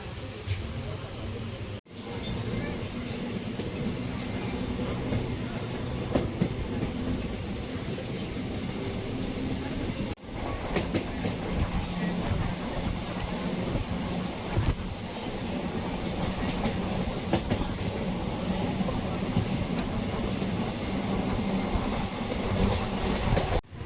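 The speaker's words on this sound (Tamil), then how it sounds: "இன்னும் இந்த ட்ரெயினுக்கு எல்எஸ்பி ரேக் கொடுக்கலைங்க, ஐசிஎஃப் ரேக்கில் தாங்க ரன் ஆகுது." A Chennai Egmore Express passenger train running on an ICF rake gives a continuous, loud rumble of carriage and wheel noise with faint clickety-clack, heard from inside throughout with a few brief dropouts.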